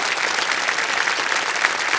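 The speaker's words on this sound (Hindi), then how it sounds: "तालियां बज जाए।" Dense studio audience applause on a televised quiz game show, loud and continuous with no break across the whole stretch.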